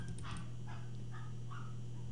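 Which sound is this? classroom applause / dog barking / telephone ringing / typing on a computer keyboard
dog barking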